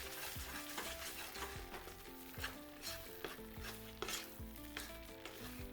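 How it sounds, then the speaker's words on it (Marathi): Wheat flour sheera roasts in ghee as it is mixed, a soft continuous sizzle with repeated spoon scrapes and taps against the pan at an uneven rhythm, fairly quiet and with no talking. "एकदा मिक्स करून घेऊया."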